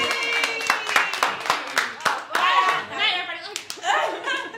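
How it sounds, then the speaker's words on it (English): Several people clap in uneven bursts of sharp, close hand claps during a casual game session, mixed with lively talking and laughter over the claps. "It's a clapping like we're at the award show"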